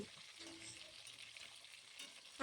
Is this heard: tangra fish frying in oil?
yes